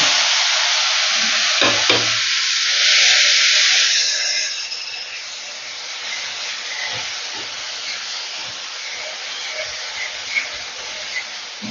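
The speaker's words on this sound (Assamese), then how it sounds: "আৰু পিঁয়াজখিনি মই অকণমান দেৰি এনেকৈ ভাজি থাকিম।" Onions fry in a pan with hot oil for matar paneer, starting with a loud sizzling rush that settles after a few seconds into a softer, steady crackle with occasional pops and utensil taps.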